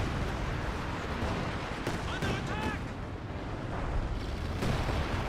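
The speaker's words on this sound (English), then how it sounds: "He just basically got barraged out of the game." Artillery barrage rumbling through a Company of Heroes 2 battle, a dense continuous wash of distant booms and blasts with scattered sharper impacts, steady and loud throughout, with faint voices briefly mixed in.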